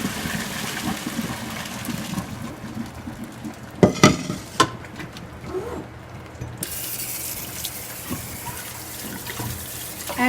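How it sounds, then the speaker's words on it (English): Cooked Persian rice pours into a colander as water splashes and drains, with a few sharp knocks of metal partway through and a steady running-water wash throughout. "Now I'm going to put it in the colander."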